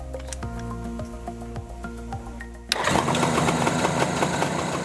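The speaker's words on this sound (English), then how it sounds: "Make sure the engine is okay to start before you start it." A Suzuki GT750 two-stroke motorcycle engine, heard after a run of intermittent clicks and ticks, suddenly catches and settles into a loud, steady, close running noise.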